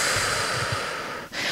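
A long, breathy exhale during a self-massage breathing exercise, a soft continuous airy rush close to the microphone that trails off near the end, alone with no talk.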